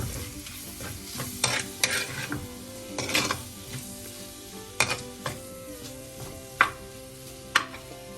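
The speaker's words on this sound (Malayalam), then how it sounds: "തക്കാളി പഴം ഇതിലോട് ചേർത്ത് മിക്സ് ചെയ്യാം." Chopped tomatoes being stirred into a frying Kerala-style kora fish chilli curry in a pan, with a steady sizzle under repeated scraping strokes of a spoon, several louder stirring clatters standing out, no talking.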